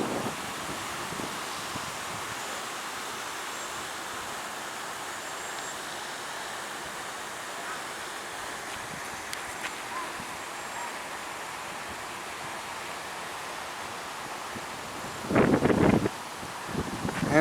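Wind blowing steadily across Lotus Lake in a county park, a soft continuous broadband rush with gentle gusts, then a brief louder burst of rustling or handling noise near the end.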